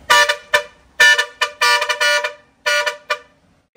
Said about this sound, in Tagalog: All goods na yung air horn project sa unit ni Sir Harlan Lopez